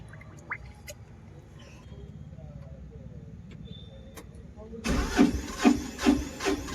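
A Piaggio Ape BS6 diesel engine, after head bore work, cranks and catches midway through, its rough rhythmic knocking chugging loudly up close after a quiet stretch of faint clicks.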